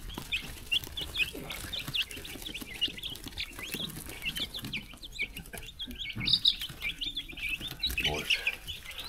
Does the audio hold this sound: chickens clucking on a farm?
yes